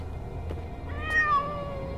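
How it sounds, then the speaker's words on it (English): A cat meows once inside a video game, a single drawn-out, slightly rising meow heard over a low steady background hum with faint clicks. "Oh, I can hear that missing cat. It must be in there."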